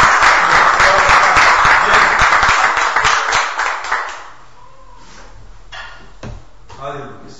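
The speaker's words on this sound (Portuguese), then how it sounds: "Dê um aplauso forte ao Senhor," A church congregation claps in a loud, dense burst of applause for about four seconds, then it fades to sparse claps and murmurs, with a voice speaking over it.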